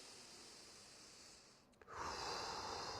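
Slow inhalation during a relaxation exercise for easing finger and hand tension: a quiet, steady airy breath that swells after a brief pause and a small click, close to the listener, with no talking.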